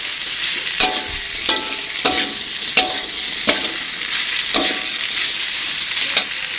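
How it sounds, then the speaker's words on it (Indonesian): Tempeh is stirred in a sizzling frying pan for oreg tempe, a steady loud fry hiss broken by about eight regular scraping strokes of the utensil against the pan. "di sini langsung aja saya mau taruh tempenya teman-teman. Aduk-aduk."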